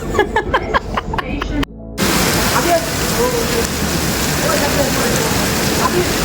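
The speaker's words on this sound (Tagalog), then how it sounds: "Lalakas ang ulan." Voices talk briefly, then a dense, steady roar of heavy rain in Qatar takes over and continues loudly to the end.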